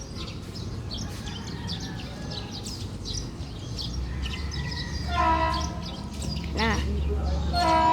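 PNR 8001 train arriving at San Pablo station, with a low rumble building under the scene and two loud, nearby horn blasts late in the clip while people talk over it.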